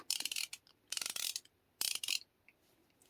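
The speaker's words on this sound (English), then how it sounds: "The ratcheting mechanism is very, very smooth" A Snap-on ratchet mechanism clicks in three quick bursts of rapid, fine ticks separated by short pauses, close and fairly quiet with no voices.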